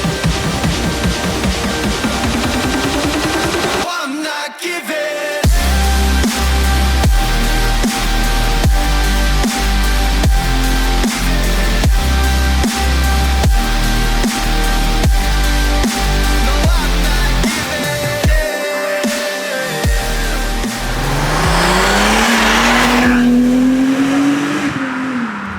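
Supercharged V6 Mercedes-Benz C32 AMG driving on an open road, engine loud and close as it revs up through the gears with repeated surges and shifts, a short quiet gap midway, then hard acceleration again.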